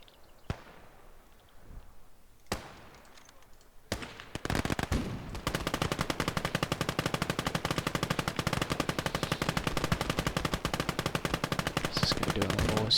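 A few scattered shots are followed by sustained, rapid machine gun fire in the war game Conquest Enhanced, a dense, continuous rattle of bursts that stays loud to the end, with no talk.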